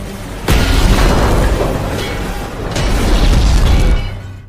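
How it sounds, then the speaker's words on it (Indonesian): A loud, deep explosion booms out in an action film scene, with a sharp onset, a second rumbling surge, and a roaring, crackling blast that sustains for several seconds before cutting off. "Padahal ledakan tersebut adalah untuk menjadi titik lokasi penjara Hades agar ditemukan oleh De Rosa."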